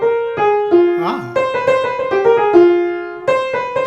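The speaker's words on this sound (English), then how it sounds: "That's the sound of a half step." Piano notes played one after another, stepping down by half steps, with a brief voice murmuring in the middle.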